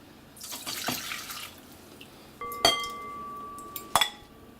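Pickled habaneros are drained in a kitchen sink, with running water splashing at the start and then a few sharp clinks of glass or jar against the sink, heard close with no talk.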